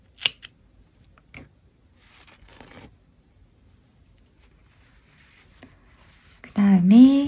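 Scissors snip knitting yarn on a cable-knit winter beanie: one or two quick, sharp, close cuts at the start, then near silence, and a short voice near the end.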